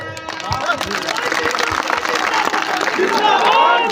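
Large crowd at a village political rally near Jamalpur, a loud continuous murmur of many voices with scattered clapping and cheering, close and steady throughout.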